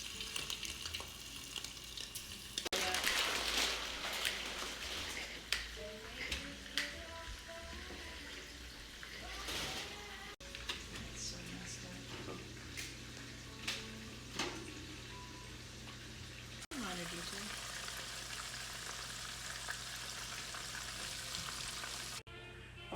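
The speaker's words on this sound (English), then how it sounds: "We're going to go with the first batch, a few batches at a time so we don't overwhelm the oil here." Oysters deep-fry in batches in hot oil for po'boys, giving a steady, fairly quiet sizzle with occasional clinks and splashes from the utensils.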